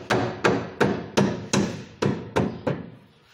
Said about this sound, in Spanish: Me traigo el martillo de goma.